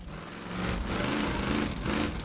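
Engine note of the American Classics DLC car in the video game JDM: Japanese Drift Master, a steady buzzing drone that holds throughout with a slight swell partway, loud and alone with no talk.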